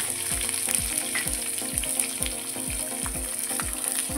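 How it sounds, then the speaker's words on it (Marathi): Cumin seeds, chopped onion and green chillies fry in oil in a pan for vermicelli upma. A steady close sizzle runs under regular scraping stirs, and no voices are heard. "जिरे टाकायचे आणि हा 1 कांदा आहे चिरलेला आणि मिरच्या आहेत त्या एकत्र टाकलेल्या"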